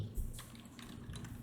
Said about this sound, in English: So I'll try the keyboard.